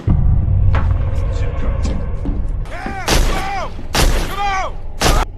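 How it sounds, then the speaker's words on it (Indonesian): A pistol is fired at random, with several sharp, loud shots spread over a few seconds, rising above a steady background of droning sound and a voice. "mulai menembakkan pistol secara acak"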